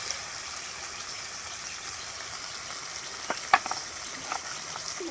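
Meat sizzles in a pan of cooked-down spice masala with a steady, fairly soft frying hiss, broken by a few brief clinks and stirring sounds near the end.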